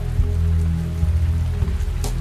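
Rain falling steadily on the trees where koalas shelter, a continuous wet patter over a low, rumbling background.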